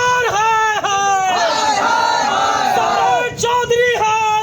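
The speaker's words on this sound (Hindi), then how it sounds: "इधर पप्पू यादव के समर्थक हंगामा और प्रदर्शन कर रहे थे" Crowd of Pappu Yadav supporters protesting, loud massed voices chanting and yelling slogans in overlapping, rising-and-falling bursts, close and continuous throughout.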